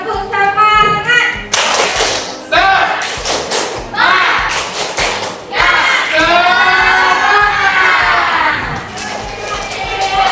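A group claps in a rhythmic 'tepuk semangat' cheer pattern at a teacher training session, with bursts of clapping mixed with shouted voices and loud chanting throughout.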